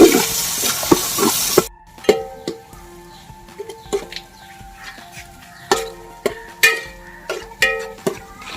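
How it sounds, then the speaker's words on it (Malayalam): Tomatoes and green chillies are sautéed with onions for Kerala chicken chukka. A loud burst of sizzling opens, then quieter frying continues under repeated sharp metallic clanks and scrapes of a spatula against the pan. "ഇനി നമുക്ക് തക്കാളി ഒരു 3-4 തക്കാളി ഇടുന്നുണ്ട്. പിന്നെ ഒരു 8-10 പച്ചമുളകും കൂടി ഇട്ട് കൊടുക്കുന്നുണ്ട്"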